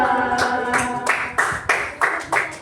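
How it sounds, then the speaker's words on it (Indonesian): A classroom of sixth-grade pupils claps for group three, a near, fairly loud burst of hand claps settling into a rough repeated rhythm of strong rhythmic claps. "Oke, tepuk tangan untuk kelompok tiga."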